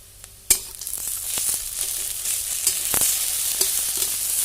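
Nuts dropped into a hot pan sizzle and crackle with a sudden loud hiss, followed by steady frying, occasional pops and stirring scrapes, close and without talk.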